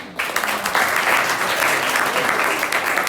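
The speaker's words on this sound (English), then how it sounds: "Am I forcing to clap or really by heart we're clapping?" Students in a classroom applaud together in steady, dense clapping that starts abruptly and carries on loud and near throughout, with no voices over it.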